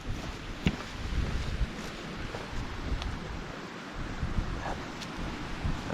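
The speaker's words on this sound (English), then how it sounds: "That water is running hard over there." The Colorado River runs hard in the Grand Canyon as a steady, distant rush of water, a broad continuous hiss with faint wind buffeting, moderately quiet and unbroken.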